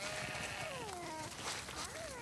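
Sheep in The Last of Us Part II bleat in a drawn-out, wavering cry, then a second rising call, clear and close over a steady game backdrop.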